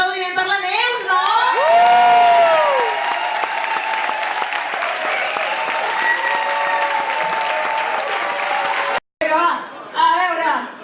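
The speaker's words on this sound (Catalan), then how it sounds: "Un aplaudiment per la Neus" An audience applauds an award presenter's colleague at a 2011 awards gala, dense sustained clapping with cheers and whoops, briefly cut off near the end, then resuming with voices shouting over it.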